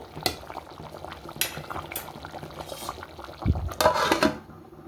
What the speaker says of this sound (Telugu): ఎంత బాగా ఉడుకుతుందో కదండి ఇంకొక పది నిమిషాలు ఉడకనిద్దాం